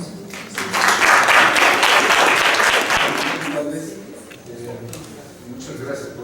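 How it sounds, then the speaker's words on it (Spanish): Audience applause at an academic conference swells quickly, stays loud and dense for a few seconds, then thins out into scattered clapping. "Por favor, démosle un aplauso."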